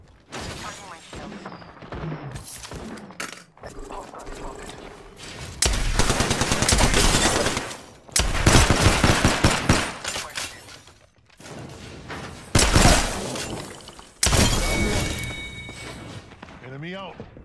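Gunfire in the video game Apex Legends, with dense bursts of automatic fire and thuds in several loud sustained stretches, mixed with game voice lines and other speech.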